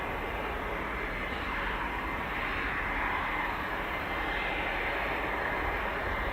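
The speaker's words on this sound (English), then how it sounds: "And here come the Gripens." Saab Gripen fighter jets arrive at RAF Fairford during the Royal International Air Tattoo, their engines a steady, broad roar that stays level and fairly distant across the whole stretch, with no voices over it.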